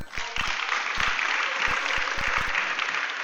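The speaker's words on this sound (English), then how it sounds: "we should clap for NIMASA." A crowd applauds steadily for several seconds, with a few louder individual claps standing out from the dense clapping.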